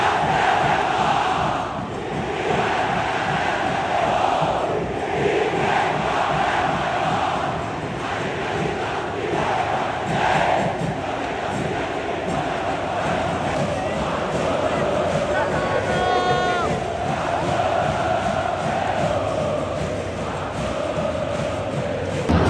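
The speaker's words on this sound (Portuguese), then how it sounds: "a pressão da torcida do Paysandu tá inacreditável" Paysandu football supporters fill a packed stadium before a Re-Pa derby final, a steady massed roar of chanting and shouting that holds loud throughout, with a nearby voice speaking over it at times.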